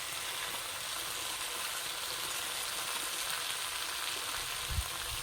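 Cabbage added to spices frying in a pan, a steady soft sizzle throughout with a faint clunk near the end, quiet and continuous with no voices.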